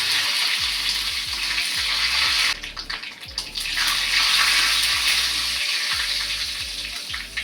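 Hot coconut oil tempering with popped mustard seeds, green chillies and curry leaves hits a banana stem pachadi, giving a loud hissing sizzle that dips briefly, then surges again and gradually settles.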